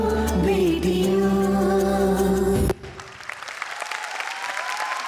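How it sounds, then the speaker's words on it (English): Audience applause at a school annual day performance, a loud sustained burst of clapping over a musical tail that cuts off abruptly, leaving a quieter, thinner patter of claps to the end. "Please give them a huge round of applause for their hard work and efforts."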